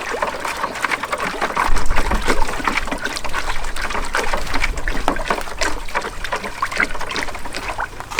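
Diluted acid solution being stirred in a container of rainwater, with continuous close sloshing and trickling liquid splashes at a steady, fairly loud level.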